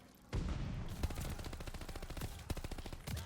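Rapid automatic gunfire from Call of Duty: Vanguard, crackling in dense, close bursts with brief gaps for about three seconds, loud and continuous with no voices.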